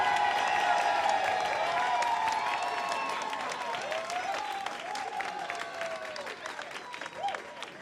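Loud applause, whistles and cheers from a live audience voting at a pun competition semifinal, a sustained wash of clapping with shouts on top that gradually tapers off.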